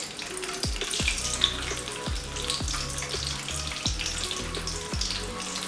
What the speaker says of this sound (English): And I am going to fry it.